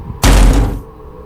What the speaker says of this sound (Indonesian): sebuah suara pintu terbanting dari dalam gedung